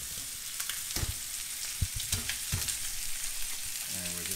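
Pork chops fry in a pan with a constant, close hiss and crackle, broken by a few brief pops and clinks of a utensil and a short voice at the very end.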